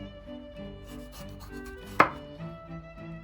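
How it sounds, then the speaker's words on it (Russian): Knife chopping bell pepper on a board, a series of soft rhythmic cuts with one sharp louder chop midway, close and clear with no talk. "Сразу же нарежем болгарский перец."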